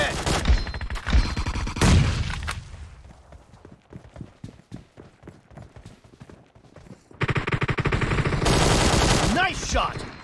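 QBZ rifle fire in PUBG Mobile's 8-vs-8 team mode: dense automatic bursts up close, then scattered single shots and clicks, then another long sustained volley, with game announcer voice lines in between.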